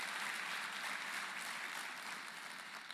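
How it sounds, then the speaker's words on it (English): A large audience at an education sector conference claps for educators, a dense, even wash of applause held steady throughout and heard from a little distance. "Let's give them that round of applause."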